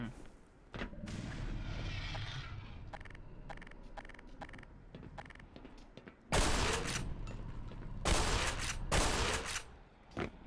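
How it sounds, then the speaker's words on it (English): Bullets striking and ricocheting off a creature's armored shell in Black Mesa, heavy bursts of gunfire with sharp metallic impacts, loud and dense in the middle and toward the end, over a rumbling background of battle. "that definitely sounds like bullets ricocheting off of his shell to me"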